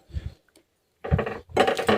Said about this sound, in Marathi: छान आता मिक्स करून घेते